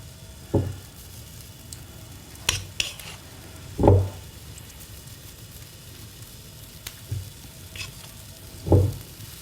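Oatmeal and treacle drop scones sizzle softly on a hot griddle, a low steady frying hiss broken by a few sharp clinks and scrapes of a utensil against the pan.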